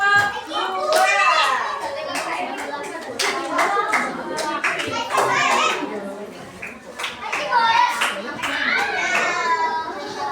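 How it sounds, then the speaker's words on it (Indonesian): Children in a classroom clap for the second group, scattered hand claps mixing with kids' chatter and voices throughout, fairly close and lively. "Ya, tepuk tangan untuk kelompok 2."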